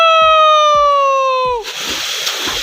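A loud, drawn-out vocal cry gives way to a close splash and sloshing as someone plunges into a waterfall pool in Champawat.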